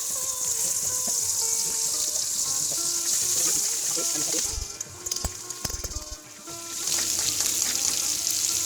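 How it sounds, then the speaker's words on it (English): Curry laksa paste stir-frying in about two tablespoons of hot oil in a frying pan: a loud, continuous sizzle that briefly dips midway, with utensil scrapes and knocks. "we need to heat up about 2 tablespoons of oil to stir fry our curry laksa paste"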